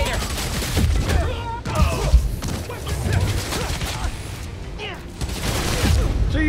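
Rapid gunfire from enemies in the PS5 game Spider-Man: Miles Morales, a loud, continuous barrage of shots and impacts blended with game music and effects, with a voice briefly heard over the action.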